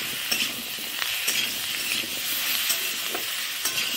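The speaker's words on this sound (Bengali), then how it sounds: "একটু নেড়ে নেব" Pumpkin stirred in a sizzling pan after salt goes in, for a prawn and Malabar spinach dish: constant close hiss of frying with soft scraping spoon strokes at an irregular rhythm.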